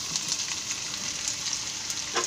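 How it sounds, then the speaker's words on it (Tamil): Onion samosa masala sautés in oil, a continuous close sizzle with light stirring clicks and a brief louder scrape near the end, and no voices. "இந்த மாதிரி வதக்கிக்கிறோம் லேசாக"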